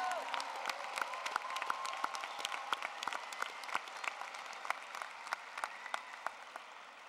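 Audience at a 2013 university undergraduate graduation ceremony applauds the graduating students, a steady wash of many hands clapping with a few sharper individual claps standing out, fading slightly toward the end.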